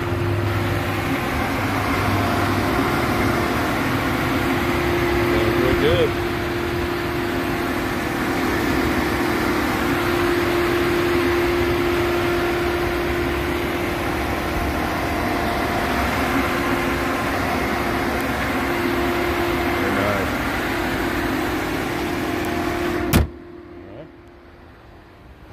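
A 2010 Volvo S80 with the 3.2 engine idles at a steady, even hum with a constant tone for about 23 seconds, then cuts off abruptly, leaving quiet background.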